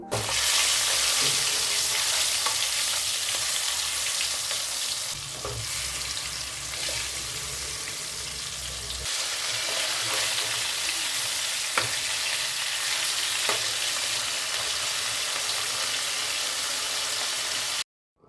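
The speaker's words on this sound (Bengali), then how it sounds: "এখন মাছগুলো আস্তে আস্তে সব ভেজে নেব" Steady sizzling of rohu (katla) fish and prawns frying in hot oil in a pan, a broad crackling hiss that continues for the whole stretch with occasional small pops and stirring sounds.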